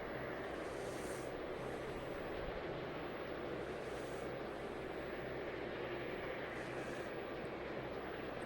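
A KLM airliner takes off in the airport simulation game Tower 3D Pro at Paris, a steady broad jet engine roar holding level throughout, with no voices over it.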